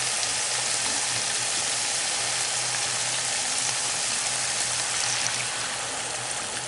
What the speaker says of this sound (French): Je vais mettre de l'eau.